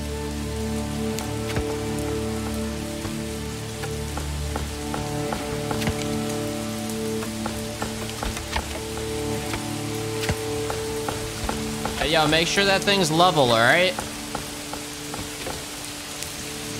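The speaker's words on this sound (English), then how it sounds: "The rain sounds nice." Steady rainfall in the medieval city-building game Manor Lords, a continuous soft patter across the whole stretch with a brief louder warbling sound near the end; a voice speaks briefly over it.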